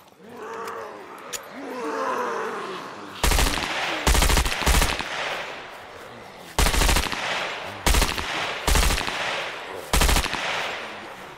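In the survival game SCUM, loud, close gunfire comes in several short automatic bursts with pauses between them, following a low growling roar at the start.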